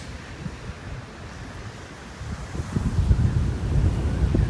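Wind buffets an open microphone at Kapilina Beach on Iroquois Point, Hawaii, a low rumbling roar that swells and grows gustier toward the end.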